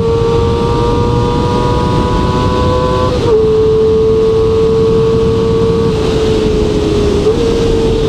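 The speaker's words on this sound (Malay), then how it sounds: "dia untuk 4 silinder 250. Sedap dia punya enjin dia." A QJMOTOR SRK250RD four-cylinder 250cc motorcycle engine holds a steady high-pitched idle with slight revs, loud and close, with no talking.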